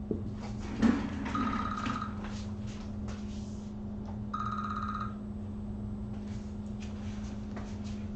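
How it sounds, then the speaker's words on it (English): A phone ringtone interrupts a math lecture on graphing exponential functions, sounding in two short repeated bursts a few seconds apart, moderately faint over a steady room hum. "Sorry about the phone call disturbing my lecture."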